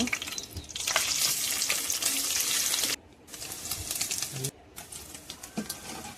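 Frying in hot oil in a wok for a vegetarian aloo paneer biryani, a loud, crackling sizzle that drops out abruptly twice.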